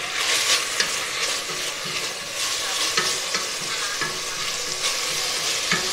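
Onions fry in a pan for chicken curry with a loud, continuous sizzle and occasional stirring scrapes, heard close up and without talk.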